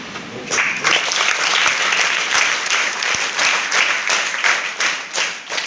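An audience at a spoken talk breaks into loud, sustained applause, dense overlapping claps filling the room, swelling slightly and then thinning toward the end, with no voices over it.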